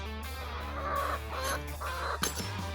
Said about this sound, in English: I gotta go check on the chickens today.